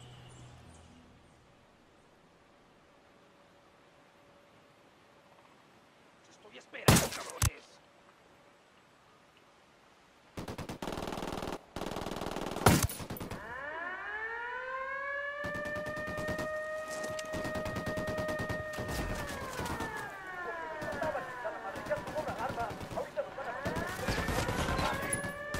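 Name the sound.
gunfire in video game Ghost Recon Wildlands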